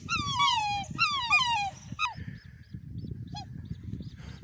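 Black swans at their nest while the eggs are being laid, the male on guard, give a run of loud, close, descending bugling honks in quick succession, then quieter scattered calls over a low rumbling background.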